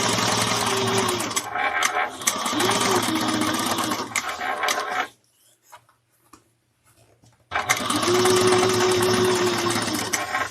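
Sewing machine basting foam-lined fabric for a handbag, a fast rhythmic mechanical clatter running steadily, stopping for about two seconds of near silence, then resuming at the same pace.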